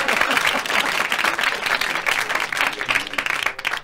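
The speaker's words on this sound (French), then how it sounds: "On applaudit!" Studio audience applause on a French radio comedy show, a dense steady burst of many hands clapping that runs the full length and tapers slightly at the end.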